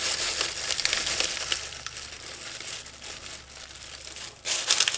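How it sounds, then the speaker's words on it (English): Plastic spice bags rustle and shuffle near the microphone while a curried pig's trotters and butter beans dish is prepared, a continuous loud crinkling that dips briefly and then swells again at the end. "Somebody made a comment about bags shuffling."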